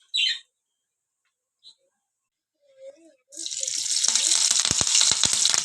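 Oil for a Tamil elephant foot yam fry (karunai kizhangu varuval) starts sizzling loudly in the pan after a few quiet clinks and brief murmurs, a dense steady crackle that holds to the end.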